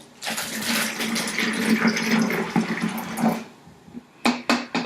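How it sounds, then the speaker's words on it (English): Hydrogen peroxide is poured into a container in a steady, gushing stream for about three seconds, followed by a few brief splashing pours, close and clear with no talk. "So I'm going to take my hydrogen peroxide, we are going to pour it right inside."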